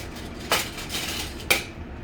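Risotto being stirred vigorously in a pot, with two sharp clinks of a utensil against the metal rim over a steady low scrape, close and moderately loud, no talking.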